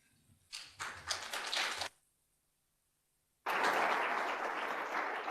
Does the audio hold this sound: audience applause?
yes